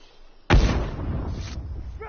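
A bomb detonates in a console shooter game, one sudden loud booming blast that rolls off into a rumbling decay over about a second and a half after a quiet lead-in.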